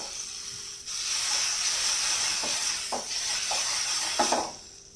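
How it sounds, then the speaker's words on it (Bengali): Bread slices toasting in butter in a pan, giving a steady hiss of sizzling fat that begins about a second in, close by, with a few quiet taps and scrapes near the end. "এবার আমি এটাকে একটু বাটারে সেঁকে নেব।"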